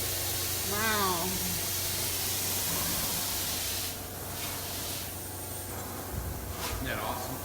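Spray foam insulation hisses steadily from an applicator in a tiny home workshop, a continuous loud rush that runs throughout while people talk over it.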